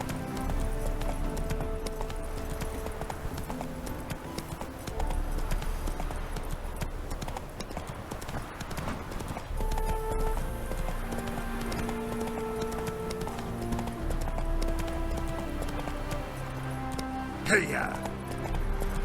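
A horse gallops in The Witcher 3: Wild Hunt, steady rhythmic hoofbeats running continuously and fairly loud, mixed with game music and ambience, with a brief whinny-like burst near the end; a rider's voice is heard.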